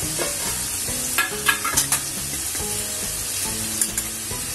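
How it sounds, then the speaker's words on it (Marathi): Spinach goes into hot oil in a pan and is stirred, with steady frying sizzle under repeated close scraping and clinking strokes of a utensil, a few louder knocks standing out in the middle. "आपण ह्याच्यामध्ये पालक घालूया"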